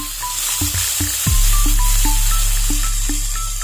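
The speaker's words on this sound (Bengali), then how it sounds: "এবার এর মধ্যে আমি দিয়ে দেব কুচনো দুটো পেঁয়াজ।" Chopped onions drop into hot oil with dried chillies in a pan, and a loud, steady sizzle rises and holds, with light ticking and crackling throughout.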